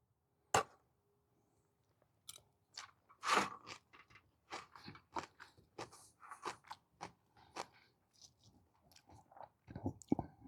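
Crunchy apple coleslaw is chewed close to the mic in a lakeside van-camping meal, a series of sharp crisp bites and wet crunches, irregular and fairly quiet, with a few soft sounds of speech between.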